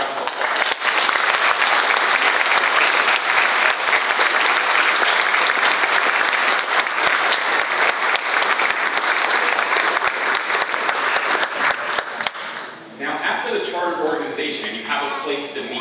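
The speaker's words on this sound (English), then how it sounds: "please let's go ahead and give them a round of applause" Loud, sustained applause fills a hall at a Boy Scout troop's 75th anniversary banquet, continuous clapping that drops off abruptly near the end, leaving a murmuring crowd.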